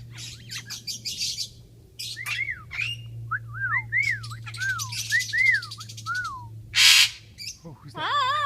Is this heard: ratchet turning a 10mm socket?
no